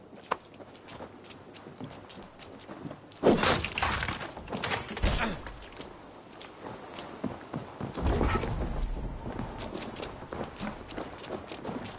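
Horse hooves clip-clop and gallop during a ride in the video game Assassin's Creed Valhalla, with louder rushing bursts of game sound layered over a steady rumble of movement.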